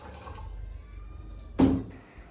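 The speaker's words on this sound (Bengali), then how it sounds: "একটু জল দিয়ে দিই" A little water is poured into a cooking pot of milk on the stove, making a short, close splash that trails off. Faint kitchen hum sits underneath.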